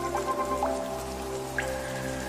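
Rain patters and drips steadily onto surfaces outdoors where hummingbirds bathe, with a constant soft wash and a few brighter droplet hits and faint chirp-like tones.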